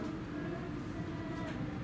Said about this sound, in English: If you hold your breath, I think you can hear the train all the way down to Contacoo.